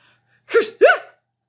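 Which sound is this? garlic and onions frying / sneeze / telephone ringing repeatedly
sneeze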